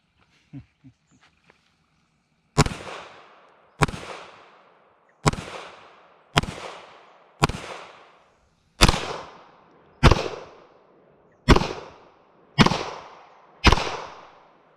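Ten sharp shots from a Kel-Tec PMR-30 pistol ring out one at a time at a steady pace, each followed by a brief echoing decay, after a few quiet clicks.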